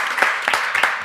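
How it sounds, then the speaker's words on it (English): Audience giving a round of applause at a film festival talk, a brief burst of clapping with a few distinct louder claps standing out over the steady wash. "Tim, we should give him a round of applause for Cowork."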